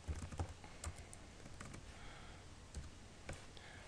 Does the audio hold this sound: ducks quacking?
no